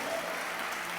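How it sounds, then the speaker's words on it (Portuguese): Church congregation applauding, a dense, even wash of many hands clapping together, steady and fairly loud throughout the brief moment. "Você pode aplaudir ao Senhor, Rei da Glória?"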